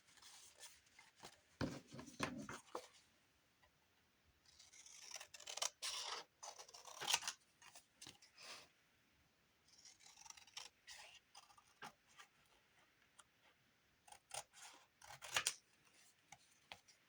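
Scissors trimming green paper in short snipping runs with pauses between them, quiet and close, with a few scratchy rustles of the paper and no voices.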